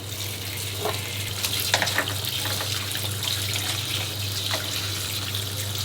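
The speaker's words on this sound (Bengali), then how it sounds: "জাস্ট সুন্দর করে ধুয়ে ফেললে কাপগুলো ক্লিন হয়ে যাবে বাইরে থেকে" Tap water runs steadily as crabs are rinsed clean under it for a black pepper crab dish, a constant close hiss of flowing water with faint handling sounds and no talk.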